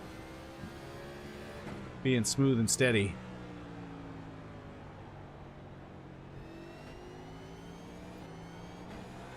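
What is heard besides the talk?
race car engine downshifting at Martinsville, from iRacing video game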